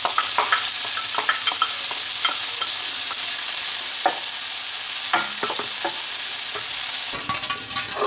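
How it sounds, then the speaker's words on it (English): Bacon frying in oil in a pan for a lobster sauce: a loud, continuous crackling sizzle up close, dotted with sharp pops and light clicks of stirring. "we'll start off with some oil in the pan. I'll put in our bacon."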